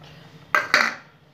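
A metal spoon clinks twice against a pan while stirring jaggery and sugar chutney, two quick bright taps close by, ringing briefly before fading into quiet.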